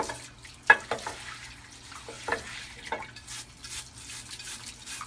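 Running water used for cleaning splashes and sputters in uneven bursts, with a few sharper splatters standing out above a low steady hum, close by and unaccompanied by speech.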